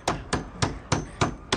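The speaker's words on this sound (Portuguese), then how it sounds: "Tem que pregar mais uma" Six evenly spaced hammer strikes drive a nail through a second wooden board onto a door, crisp and close, with nothing else heard.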